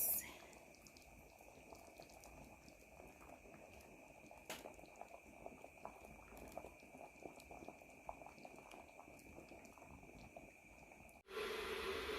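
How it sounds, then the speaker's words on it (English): A pot of green beans boils quietly, giving a soft continuous bubbling and hissing that stays low and steady before a brief louder cut at the end. "Our beans are here cooking. Green beans."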